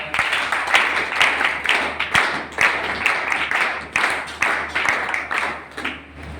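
Applause from an audience gathered at a talk at a de-addiction centre, a loud, uneven clatter of hands that swells and dips in waves throughout, with no voices standing out.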